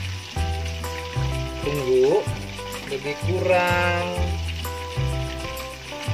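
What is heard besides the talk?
chicken frying in oil over low heat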